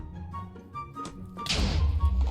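A Minecraft explosive barrel detonates with a sudden loud, broad blast after a brief stretch of quieter game sounds, leaving a heavy rumbling roar to the end.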